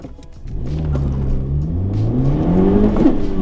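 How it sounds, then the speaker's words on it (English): A Honda Civic Type R with transmission problems revs hard through a gear change, its engine note climbing and dropping, and a short, rough grinding crunch breaks in near the end, heard loud and close from inside the car. "There's the grind. Didn't go all the way to red line there, but still gave me that grind."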